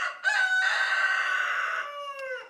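A rooster crows once, a loud, close, drawn-out cock-a-doodle-doo lasting about two seconds, alone with no voices.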